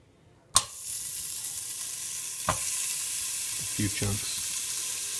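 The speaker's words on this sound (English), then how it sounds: "just throw another one in there, and sear them on both sides in a good sized pot" Beef short ribs seared in a good-sized pot: a sharp hiss bursts out as the meat hits the hot surface, then settles into a steady loud sizzle with a few clunks, while a voice speaks briefly.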